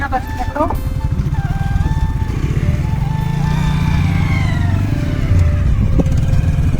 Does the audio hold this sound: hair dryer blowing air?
no